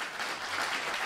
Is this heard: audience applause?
yes